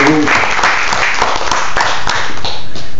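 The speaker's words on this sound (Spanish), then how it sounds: "Yo quiero que ustedes den un aplauso a la sangre preciosa de Cristo Jesús" Church congregation at a Bible study applauding loudly and steadily, a dense close wash of clapping that fills the whole moment.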